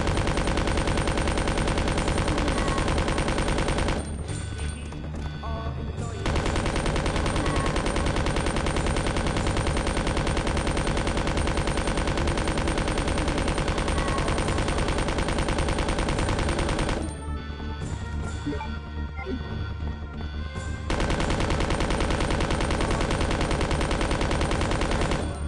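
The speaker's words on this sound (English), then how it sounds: "We're just gonna use the SMG like crazy." Sustained SMG machine gun fire in the original Resident Evil 2 roars loud and nearly unbroken in long bursts, with two brief pauses before the rapid automatic fire resumes.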